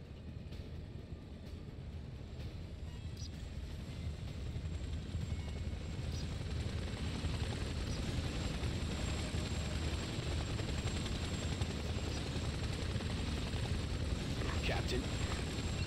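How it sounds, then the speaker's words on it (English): Hostile helicopter closing in during a combat mission in Ghost Recon Advanced Warfighter 2, a steady loud rotor drone and engine rumble filling the scene throughout with faint mechanical clanks on top. "We have a hostile chopper inbound for the VIP's position."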